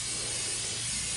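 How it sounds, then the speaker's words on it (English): Flex Seal sealant sprayed from an aerosol can onto a wooden stair riser for a treehouse staircase, a loud, close, continuous hiss lasting about a second with no voices. "I'm spraying now with Flex Seal"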